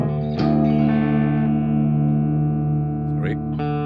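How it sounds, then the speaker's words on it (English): Clean electric guitar through a Fractal Axe-FX III JTM 45 Marshall-style amp preset: ringing sustained chords with echo and reverb trails, two fresh strums cutting in near the end, close and clear. "with this amp you can get some clean sound like this"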